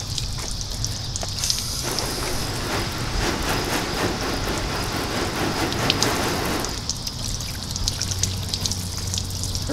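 Water from a hose sprayed up high to fall like rain onto the freshly waxed hood of a car, a steady close hiss and patter that swells louder through the middle stretch before easing back to a lighter spray, with no talk.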